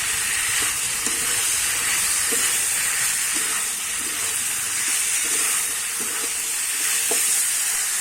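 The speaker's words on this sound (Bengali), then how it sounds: "এবারে কিন্তু ভেজে রাখা আলু আর চিংড়ি মাছটা দিয়ে দেবো দিয়ে কিন্তু আমি আবারও কষাবো" Fried potatoes and prawns with figs sizzle steadily in a pan, a constant close hiss of frying with soft scrapes and taps as the mixture is stirred.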